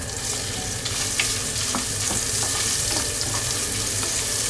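Ginger fries in a hot pan for a spinach and coconut milk dish, with a dense, bright sizzle running throughout and a few scattered clicks and scrapes from stirring.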